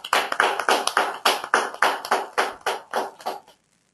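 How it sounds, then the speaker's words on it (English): Audience applause after an academy-style award is announced, a close, rhythmic run of about fifteen claps that slows slightly and stops, with no talking. "Give a big round of applause for Nitish Goenka."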